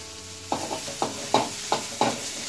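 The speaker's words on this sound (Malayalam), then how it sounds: "അതിലേക്ക് കുറച്ച് വെളിച്ചെണ്ണയും കൂടി ഒഴിച്ചിട്ട് നമുക്ക് ഈ ഉള്ളി ഒന്നിട്ട്" Onions frying in coconut oil for a dried-fish fry, heard as a steady sizzle with four or five distinct scraping stir strokes at a regular pace, close and clear, with no talking.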